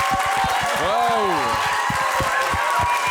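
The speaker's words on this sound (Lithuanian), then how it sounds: "Plojimai Vytas." A few people in a studio game-show setting clap in a quick, steady rhythm while voices talk and exclaim over the clapping.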